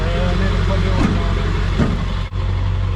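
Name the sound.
truck engine idling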